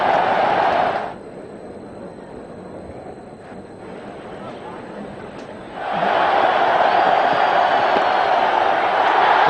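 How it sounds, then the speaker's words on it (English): A cricket stadium crowd erupts in loud sustained cheering for a batsman's fifty, dipping briefly into a broad roar and then swelling back to full volume. "That's his 50, Sanjay Bangar. The crowd is delirious."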